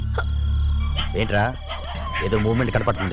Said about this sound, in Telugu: ఏమీ లేదు, కుక్కలు అరుస్తున్నాయి అంతే